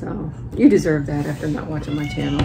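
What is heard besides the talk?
cat meowing in the background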